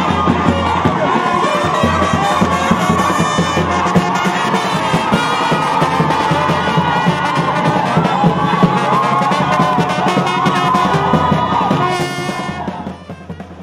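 A crowd cheers, yells and applauds over a loud brass band fanfare as a bishop and his wife leave an airport on returning from Paris; the dense, sustained din runs throughout before easing at the very end.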